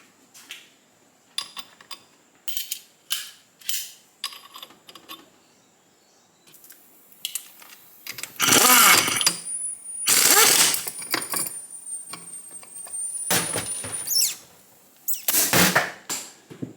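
Work on a 1979 Honda Z50R minibike to remove the flywheel brings scattered metallic clicks and clanks, then several loud, dense bursts of tool noise, one carrying a thin steady whine, all close up.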